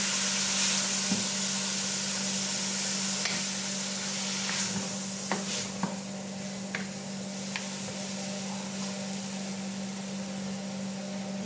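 Shrimp for Arabic rubyan marag stirred and frying in a pan, a steady close sizzle with scattered scrapes and clicks of the utensil, no voices.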